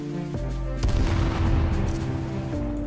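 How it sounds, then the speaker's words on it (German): Grenade blast and gunfire in the battle royale game H1Z1, a sharp boom near the start followed by a dense rumbling burst of shots and a steady low game hum. "Ich habe eine Granate geworfen."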